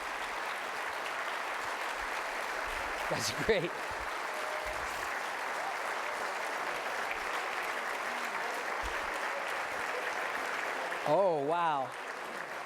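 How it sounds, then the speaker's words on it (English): Corporate hypnosis show audience giving steady, moderate applause for the volunteers on stage, continuous clapping with brief voices speaking over it. "Round of applause for these guys who are just absolutely wonderful."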